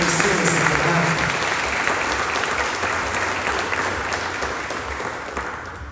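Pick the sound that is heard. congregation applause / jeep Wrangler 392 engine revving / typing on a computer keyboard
congregation applause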